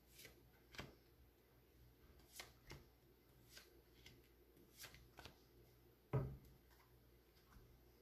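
Tarot cards being shuffled by hand, a series of soft riffling flicks at irregular intervals, quiet and close, with a sharper louder snap near the end and no talk.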